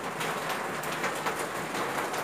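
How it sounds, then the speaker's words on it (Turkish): Steady rain falls close by in a village, a dense patter of drops hitting surfaces with no voices, continuous from start to end. "Yağmur maşallah hiç durmadı hiç."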